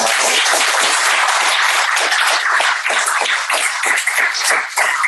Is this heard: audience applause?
yes